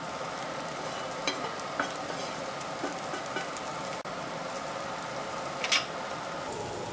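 Chinese broccoli fries in a fried rice pan with a steady, even sizzle throughout, broken by a few faint clicks and scrapes of stirring, with no voices.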